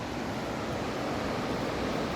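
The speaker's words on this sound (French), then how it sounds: "Et ces cascades." Waterfalls in Austria pour in a steady, dense roar of rushing water that fills the whole moment without pause, loud and close, with no voices.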